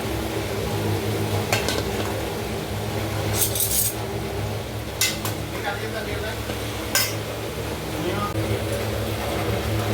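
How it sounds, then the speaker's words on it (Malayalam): Banana flower mixture tipped into a hot pan and stirred while making kudappan curry, with scattered metallic clinks of a spoon against the pan over a low sizzle and a voice speaking throughout. "ഇതിലേക്ക് നമുക്ക് മിക്സ് ചെയ്ത് വെച്ചിരിക്കുന്ന കുടപ്പൻ ഇട്ട് കൊടുക്കാം"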